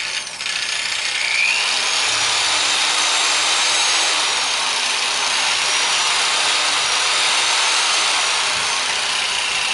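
Variable-speed polisher grinding a stone countertop with a 50-grit pad, a steady loud whirring hiss with a gritty rubbing edge, running continuously and close with slight pitch shifts as speed changes.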